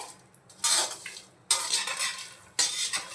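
Grated dry coconut and seeds are stirred in a pan for dry fruits laddoo, with three separate bursts of scraping spoon strokes against the metal pan that swell and then die away, close by with no voices.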